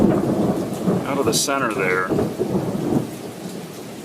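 A thunderstorm rumbles with heavy rain pouring steadily, a close roll of thunder swelling midway; someone speaks briefly over the downpour.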